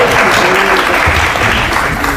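An audience in a television studio breaks into sustained applause, a loud, steady wash of clapping that carries on for the whole stretch with no voices rising above it.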